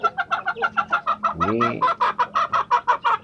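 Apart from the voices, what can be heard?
village chickens clucking and crowing in a coop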